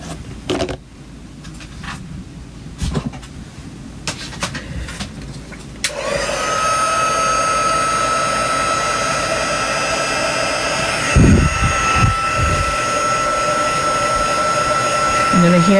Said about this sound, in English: I'm going to hear the gun here, and you're going to watch it melt.